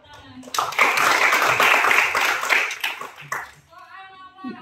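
Classroom applause during a lesson: a burst of many hands clapping close by for about three seconds, fading out into a voice and faint talk.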